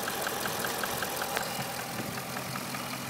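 The 6.4-liter Hemi V8 of a 2012 Chrysler 300 SRT8 idles with a steady, even rumble and a light rhythmic ticking on top, moderately quiet and alone without voices.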